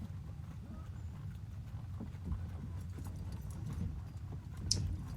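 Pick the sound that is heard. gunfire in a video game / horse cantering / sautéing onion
horse cantering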